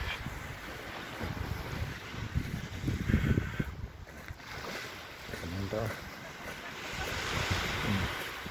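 Surf washing onto a beach in Savona, Italy, a steady broadband wash with some wind buffeting the microphone, while voices talk over it.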